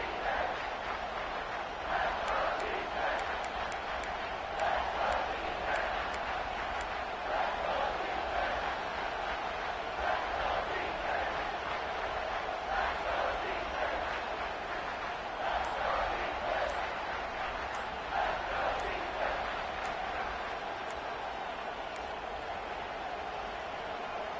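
Home stadium crowd at a college football game roars steadily, a dense sustained wash of cheering and yelling from many voices that stays loud throughout without clear pauses.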